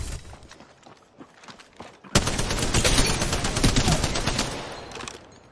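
Sustained automatic gunfire from a firefight in the battle royale shooter Apex Legends, dense rapid bursts starting loud and close after a quieter stretch of scattered shots.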